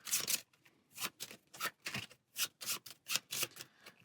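Cards from the Star Wars: Outer Rim board game are shuffled by hand, a run of about a dozen crisp riffling bursts in an uneven rhythm, close and clear with no talking.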